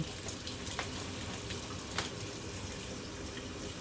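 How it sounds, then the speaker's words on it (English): Fresh vegetables for a relish platter are rinsed under a running kitchen tap, giving a steady, close, unbroken rush of water with a few faint splashes. "you just take the rubber band off of here and just rinse it off"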